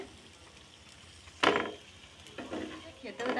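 Crispy fried potato-and-flour snacks dropped into a dish, a few sharp crunchy clatters and rustles with quiet pauses between, close and moderately loud.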